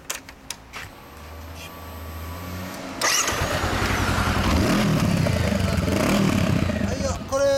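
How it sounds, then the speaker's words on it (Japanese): A 2016 Yamaha YZF-R25 motorcycle with a Prunus aftermarket exhaust cranks and fires up after a few clicks, then roars loudly and steadily nearby, revving with a rough, throaty idle. "エンジン音聞かせてもらえるかな"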